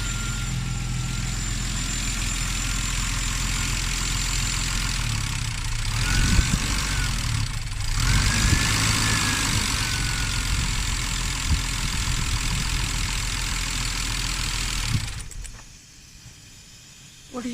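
A BMW E36 with a stroked M50B30 straight-six idles steadily after its first start, a continuous near engine drone that dips briefly twice and cuts away near the end.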